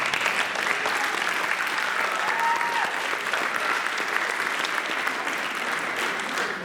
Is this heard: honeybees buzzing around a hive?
no